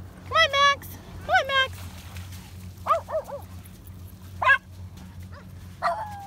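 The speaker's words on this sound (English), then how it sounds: "she was barking at the dogs up there" A dog barks at other dogs during an afternoon dog walk outdoors, a series of sharp, high yipping barks in uneven clusters, fairly close, over a low steady hum.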